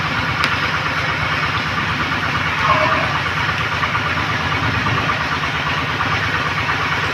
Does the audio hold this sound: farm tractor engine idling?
yes